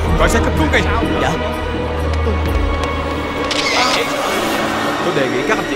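Press cameras click in quick bursts around a police arrest in a Vietnamese action film, sharp shutter snaps scattered under loud, overlapping speech.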